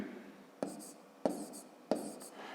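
Numbers being handwritten during a long-division working for a fifth-grade maths exercise: three quiet, separate pen strokes scratch on paper at even intervals, close and alone.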